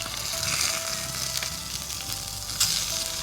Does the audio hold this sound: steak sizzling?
yes